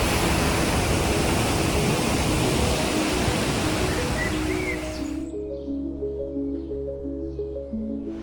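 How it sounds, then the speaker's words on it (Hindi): A strong, fast river rushes beneath a shaking bridge near Munnar and Thekkady as a loud, steady broadband roar. After about five seconds the roar cuts off and soft music takes over. "पानी का इतना तेज बहाव है ना कि पुल कांप रहा है।"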